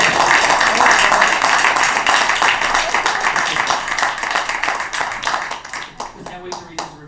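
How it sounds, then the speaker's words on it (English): Sustained applause and clapping from a comedy club audience at a live stand-up show, loud and dense at first, then gradually thinning into scattered claps as it fades. "You can clap for that."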